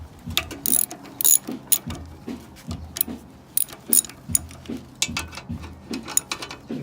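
A hand ratchet loosening bolts on the steering box bracket of a 1985 Jeep CJ7, with rapid repeated clicking strokes in uneven bursts, close and clear with light metallic clinks between strokes.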